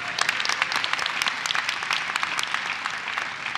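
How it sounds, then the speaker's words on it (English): Audience applause at a faith talk, a dense, steady wash of many hands clapping close and loud for the full stretch with no voices over it. "Now, please give him a round of applause."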